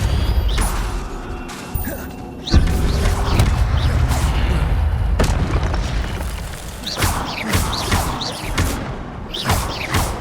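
Fire spells cast in Hogwarts Legacy burst out as a series of sharp whooshing booms and crackling impacts, repeating every second or two amid ongoing combat noise.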